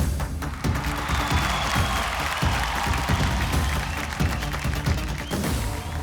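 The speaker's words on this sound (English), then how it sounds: "A big round of applause for the talented superstar herself, Alia Bhatt." A crowd at a movie promotional event for RRR applauds and cheers as a star actress is introduced, the clapping riding over booming music with heavy rhythmic thumps.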